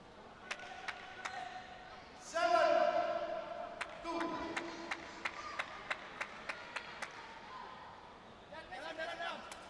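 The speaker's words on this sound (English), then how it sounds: "Fervent applause from the seats." Fervent applause rises from the seats at a sepak takraw final between Malaysia and Thailand, a burst of indoor crowd clapping swelling after sharp ball strikes echoing through the arena, with a commentator talking over it.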